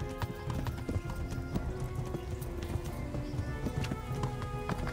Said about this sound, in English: The horse is getting tired.